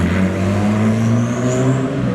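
A freshly rebuilt car engine in a pink car nicknamed Pink Widow, revving steadily and loudly as the car pulls away, with a continuous droning note and no talk.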